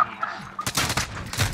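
A rapid burst of gunfire in a shooter video game on the Shipment map crackles out after a short quieter lead-in, several sharp shots in quick succession, loud and close.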